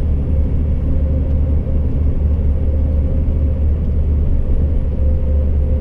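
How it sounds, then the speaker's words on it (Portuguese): Heavy truck loaded with 26 tonnes climbing the Serra do Cafezal mountain road at about 55 km/h, its engine a steady, loud low rumble that continues without a break. "Esse caminhão sobe bem"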